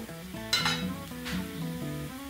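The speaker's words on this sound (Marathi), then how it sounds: "आता ह्यामध्ये आपण मसाला टाकून घेऊया।" Spices go into frying onion in a pan and are stirred, giving a close sizzle with quick metallic scrapes of a spoon against the pan.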